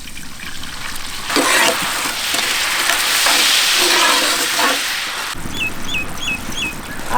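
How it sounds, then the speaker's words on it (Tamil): Water splashed into a pan of spicy lobster butter garlic gravy frying over an outdoor village fire: a loud, close burst of hissing sizzle that fades after a few seconds, then birds chirp nearby. "தேவையான அளவு கொஞ்சம் தண்ணி சேர்த்துக்கணுமுக்கா."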